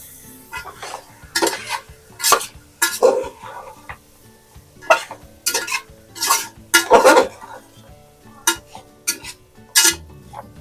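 A spoon scrapes and clanks around a metal pot as cashews and coriander are stirred into a mixed prawn, chicken, mutton and egg biryani, with repeated bursts of scraping spread unevenly across the clip and no voices.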